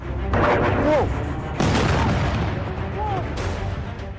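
Heavy booming blasts from Iranian missiles striking Israel, with rumbling tails, one after another, loud and distant-sounding, with faint whistling tones between them.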